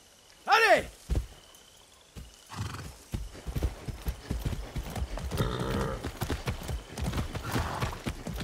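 Horse hooves clip-clop in the Far Cry 6 video game, a near, steady walking rhythm of hoofbeats that follows a loud whinny at the start, with scattered thuds and some game voice alongside.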